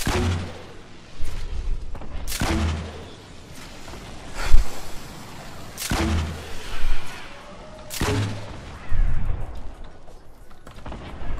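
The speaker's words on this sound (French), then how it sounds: "Grenade, grenade, il y a une grenade qui est sautée." In a Fortnite Battle Royale match, several heavy booming blasts land at roughly two-second intervals, each a sharp broadband hit with a low rumbling tail, loud and close amid game-world noise.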